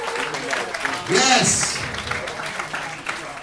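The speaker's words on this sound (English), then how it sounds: "And give yourselves a round of applause for coming out tonight." A comedy club audience at The Punchline applauds and cheers briefly. A swell of clapping and whoops rises near the middle, and a single voice speaks over it.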